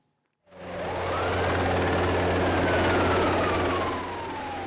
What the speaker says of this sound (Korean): 헬기에서 연신 사이렌을 울립니다.